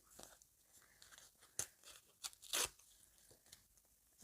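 Close, quiet paper crinkling and tearing, with a few sharp rips and rustles as a packet is pulled open.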